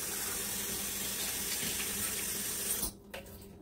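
Tap water pouring into a small cooking pot holding tomatoes and serrano chiles, a steady close splashing rush that cuts off abruptly near the end, followed by a few faint drips.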